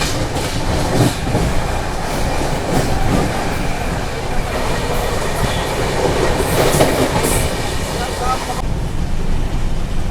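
The Jallianwala Bagh Express rolls at about 127 km/h, a loud continuous rumble of wheels on rails with rhythmic clickety-clack from inside the carriage.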